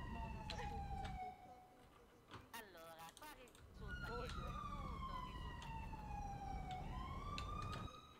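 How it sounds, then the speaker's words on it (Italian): Police sirens wail in the GTA V video game, loud wavering tones that sweep up and down, with a break in the middle before the sirens resume, under faint game noise. "Mamma mia, sirene insopportabili."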